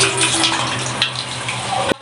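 Tamarind water being poured into a pot for village-style bone rasam makes a steady close liquid splash and trickle for about two seconds, with a steady low hum behind it and a brief knock near the end.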